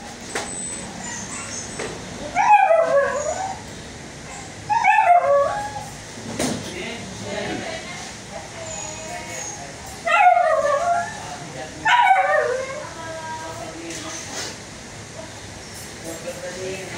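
A dog lets out several short bursts of yelping, whining howls at intervals, each cluster rising and wavering in pitch, with quieter background noise and someone talking in between.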